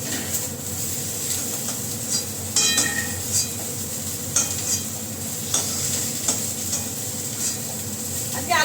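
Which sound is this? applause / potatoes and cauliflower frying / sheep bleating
potatoes and cauliflower frying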